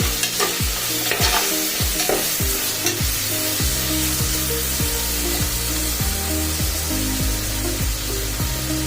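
Tomatoes being stirred into avarekalu bath in a hot pan, with a loud steady sizzle and repeated scraping strokes of a spoon, close and continuous with no talk.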